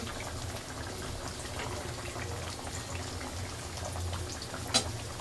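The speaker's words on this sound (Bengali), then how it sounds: "চলো ফুটে গেলে তাহলে একটুখানি গরম মশলা দিয়ে দেবো" Curry boils in a pot, giving a low, steady bubbling and gurgling simmer at moderate distance. The sound stays even throughout, with one brief sharper pop near the end.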